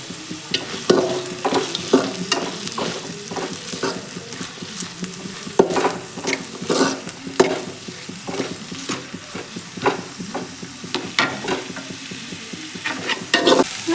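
Chopped onions frying in medium-hot oil in a pan for pasta, with a steady sizzle broken by repeated scraping, clattering stirs that come in irregular bursts close to the pan.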